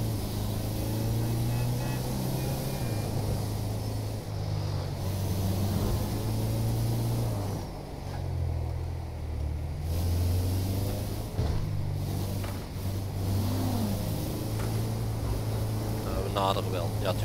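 A hijacked bus in GTA 5 speeds away with a steady droning engine hum that shifts pitch as it accelerates and changes gear. It is heard at moderate distance for a long stretch with faint background talk.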